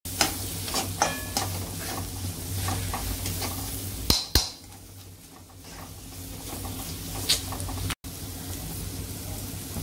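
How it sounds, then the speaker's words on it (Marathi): A masala paste of ground garlic, coconut, sesame and cumin fries in hot oil, sizzling steadily while a utensil stirs and scrapes the pan, with a few sharp clinks along the way. "हा मसाला आपण आता चांगला परतून घेऊया।"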